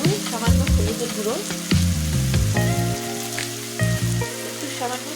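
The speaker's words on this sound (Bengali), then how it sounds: "আলু ভাজিটা আমি ভালোভাবে নাড়াচাড়া করে দিই।" Potatoes frying in a pan with turmeric and spices, a steady sizzle broken by repeated scraping, clattering stirs from a spoon, close and loud, with no voice over it.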